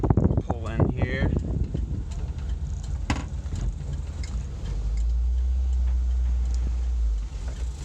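A 1974 Volkswagen T2 Double Cab drives and pulls in. Its low engine hum grows steadier and louder toward the end, with a person talking over the early part.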